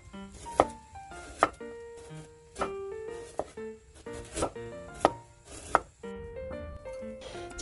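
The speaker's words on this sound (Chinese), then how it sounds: "首先先切姜片" Ginger being sliced with a knife on a board for sesame-oil glutinous rice, a Taiwanese New Year dish: about a dozen crisp, uneven chops, close and clear, over soft background music.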